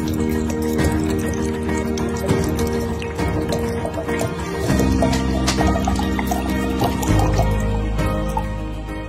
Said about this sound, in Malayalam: ഈ കുഴമ്പിലേക്ക് ബാക്കി വരുന്ന വെള്ളവും കൂടി ചേർത്ത്